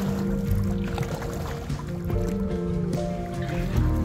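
A kayak paddled into shallow water off Tiger Key, Florida and run up onto the sand: close splashing and dripping water with scraping, sloshing movement, steady and fairly loud throughout.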